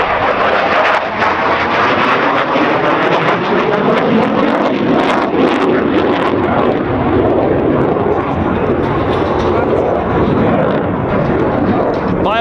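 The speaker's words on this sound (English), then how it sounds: "On your right, the F-16 and high speed pass." Polish Air Force F-16 fighter jet making a high-speed pass at an air show, a loud continuous roaring jet engine rumble filling the whole stretch with strong wind buffeting on the microphone and a commentator speaking over it.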